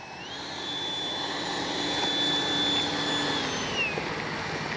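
An FMS Rafale 80mm radio-controlled jet lands on grass. Its ducted-fan turbine whines loud and steady, swells slightly, then eases off as it slows.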